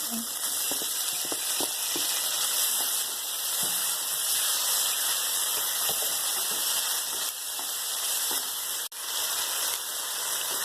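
Four tomatoes and two large onions sautéing in a pan for channa masala, giving a dense, continuous sizzle with scattered small ticks and scrapes of stirring, steady and close throughout.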